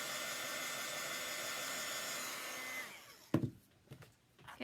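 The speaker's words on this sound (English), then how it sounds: "Oop, my little dryer guy is dying." A small handheld craft dryer blowing on glue, a steady loud whirr that sags and dies away, followed by a few clunks and handling noises.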